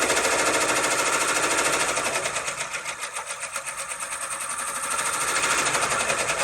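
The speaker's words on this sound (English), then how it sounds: "It's going to seem like it's running faster because the stitches are closer together." A computerized embroidery machine stitches a fitness logo onto a garment sleeve, its needle chattering in a fast, steady mechanical rattle that slows briefly mid-run before picking back up, loud and close with no talking.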